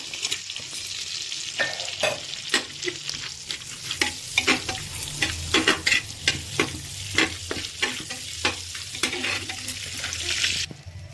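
Whole garam masala spices fry in oil over a lowered gas flame, giving a steady sizzle broken by frequent sharp crackles and stirring scrapes, close and fairly loud, with no voices.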